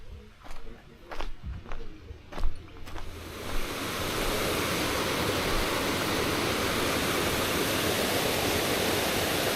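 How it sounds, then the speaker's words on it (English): Running water from a creek or river beside the Nakasendo Trail, a steady broad rushing wash swelling in after a few seconds of footsteps on a path, fairly close and continuous. "For most of the day I've heard the sound of running water. From creeks to rivers, waterfalls."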